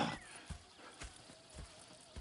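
Horses in Red Dead Redemption 2 give a short whinny at the start, followed by quiet, evenly spaced hoof thuds about half a second apart, faint and close by.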